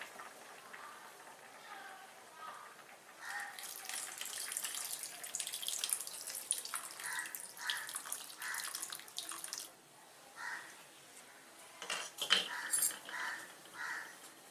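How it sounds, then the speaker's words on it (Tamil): Tamarind water poured from a container into a cooking pot, a steady splashing stream that runs for several seconds, pauses, then returns in shorter pours. "இதில் எலுமிச்சம்பழ சைஸில் நான் ஊற வச்சுருந்த புளியை கரைச்சி இதில் வச்சுருக்கிறேன் இந்த புளியை ஊற்ற போகிறேன்"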